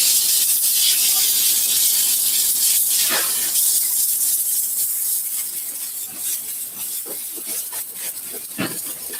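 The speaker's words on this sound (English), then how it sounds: "Steam this out." Loud, steady hiss of a handheld steamer sprayed onto suede shoes during cleaning, running continuously and easing slightly toward the end with a few short bursts.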